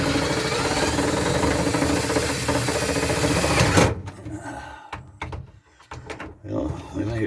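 A drill bores out holes a little larger during an RV roof fan install, a loud continuous grinding whine that cuts off suddenly, followed by quieter handling knocks and clatter.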